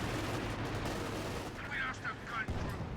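Sten guns fire in Company of Heroes during a competitive 1v1 match, a dense rattle of battlefield gunfire and explosions blending into a continuous loud din, with commentators talking over it.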